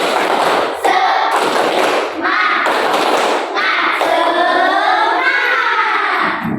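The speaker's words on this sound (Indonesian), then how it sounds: "kita tepuk semangat dulu ya. Tepuk semangat" A classroom of students performs a rhythmic 'tepuk semangat' clapping chant, with loud, dense bursts of claps and shouted voices in quick patterned phrases, filling the room at close range.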